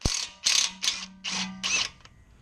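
A ratchet fitted with a 15 mm socket loosens a car's tie rod end. It makes five quick, quiet bursts of clicking, each under half a second, with a faint hum between them.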